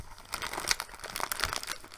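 Plastic food packaging crinkles and crackles close up in a quick, irregular series of sharp rustles as someone struggles to tear it open.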